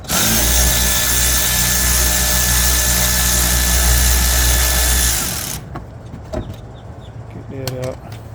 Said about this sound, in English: then I put it on the ratchet. The cordless ratchet.